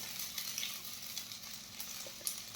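Sago pearls sizzle softly in oil left in a pan after frying potatoes, a faint continuous crackle with small pops and a light stirring scrape.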